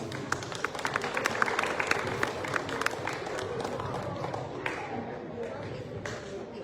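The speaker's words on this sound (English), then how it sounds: "Let's welcome him with a big round of applause." An audience at a Dhamma Chakra Pravartan Din gathering claps to welcome a speaker to the stage, giving dense, close applause with sharp individual claps over murmuring voices that tapers off near the end.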